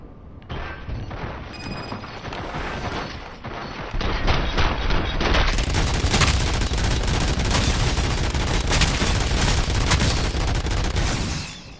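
Dense, sustained gunfire from the RoboCop: Rogue City video game, a loud continuous fusillade of rapid shots and booms that intensifies after a few seconds and keeps going without letup.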